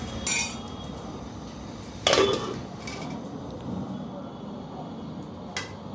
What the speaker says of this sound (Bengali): সবুজ কাঁচামরিচ দিয়ে একটু নেড়ে চেড়ে আবারও বেশ কিছুক্ষণের জন্য ঢেকে রাখবো